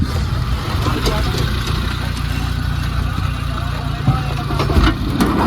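A car engine idles in a steady, close, low rumble, with indistinct voices nearby.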